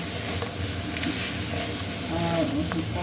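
Crab fried with onion, garlic, ginger and spices in plenty of oil, a steady close hiss and sizzle with a few soft stirring scrapes.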